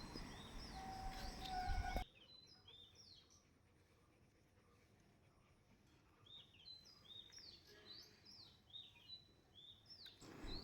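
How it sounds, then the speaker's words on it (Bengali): Birds chirp in the early morning over a rooftop garden in the rainy season. After a brief louder noise at the start, scattered short calls come faint and distant against a quiet background. "সকাল সকাল এই পাখিদের কলতান কী যে ভালো লাগছে"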